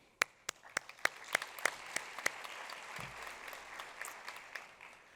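Scattered, sparse hand claps from an audience thanking parents at a high school National Honor Society induction ceremony, a few sharp separate claps that thin into a faint, low murmur of clapping.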